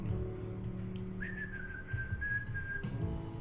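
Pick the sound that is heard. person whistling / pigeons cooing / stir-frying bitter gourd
person whistling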